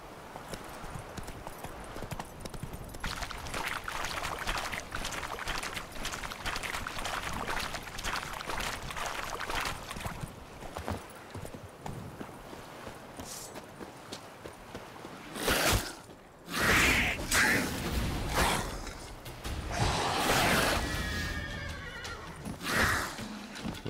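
Roach the horse in The Witcher 3: Hearts of Stone, with steady clip-clop hoofbeats running under game ambience and several sharp neighs and whinnies near the end, no talk.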